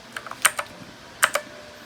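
Keys clack on a Rakk Lam-Ang Lite computer keyboard, a few sharp, close taps in two quick bursts separated by a short pause, with quiet between them.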